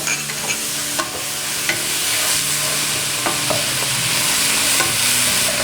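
Squid, beef, anchovies and shrimp frying in a pot for a Korean soft tofu stew, a steady close sizzle with scattered utensil clicks and stirring scrapes throughout, no voices.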